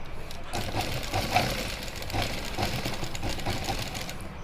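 A sewing machine stitches a strip of fabric back onto a suit, running in a fast, steady mechanical chatter with small rhythmic ticks, close and moderately quiet, with no talk over it.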